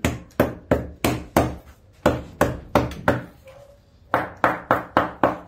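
A hammer drives a tack into a women's sport shoe during shoemaking, giving sharp, loud, evenly paced strikes in short bursts of several blows separated by brief pauses.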